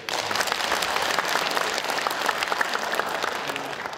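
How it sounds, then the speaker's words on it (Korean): An audience at a 2012 county by-election candidate debate in Gangjin, South Korea, claps steadily for several seconds, a dense, even patter of many hands at close range, with no voices standing out. "이분에게도 좀 박수를 한번 보내시죠."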